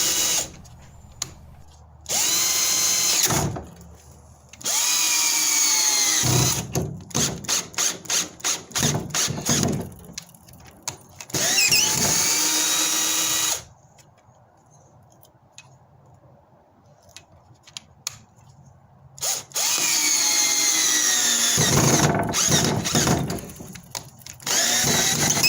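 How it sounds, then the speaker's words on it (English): A Black and Decker 12V GoPAK cordless drill drives screws into fence posts in repeated loud bursts of whirring and grinding, separated by pauses, with some short rapid triggering and a long quiet stretch midway. "I actually did not think the drill would be able to handle these screws in the fence posts"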